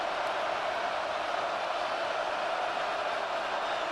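Stadium crowd roar from a Madden 26 football video game, a steady, dense wash of cheering noise holding at an even level throughout with no talk over it.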